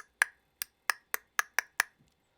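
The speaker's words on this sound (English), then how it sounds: "tongue on top of mouth click, that sort of thing" Tongue clicks against the roof of the mouth, seven sharp, dry pops in a loose rhythm, close and isolated with silence between them.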